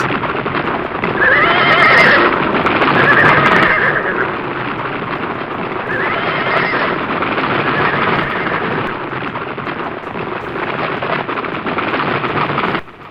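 Several horses neighing and whinnying loudly up close over a steady rumble of hooves and wind, with no talk, as a cavalry charge sets off at a canter.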